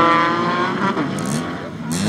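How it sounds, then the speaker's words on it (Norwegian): Volvo race car in a folkrace, engine revving loudly with shifting pitch and a passing roar, a commentator talking over it. "Helme av gårde med sin dumme Volvo for å komme plass etter plass fram"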